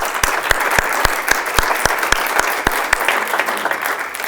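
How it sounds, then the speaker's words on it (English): An audience applauds a team at a campaign meeting, a crowd's steady clapping under which one nearby pair of hands claps in a strong, regular beat, loud and close. "I would like a big round of applause to the team"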